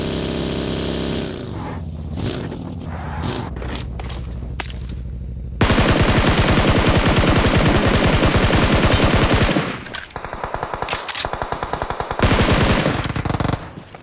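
Automatic gunfire in a shooter video game, loud and close, with short bursts giving way to a long sustained stream of rapid shots, then further choppy bursts, alone without talk.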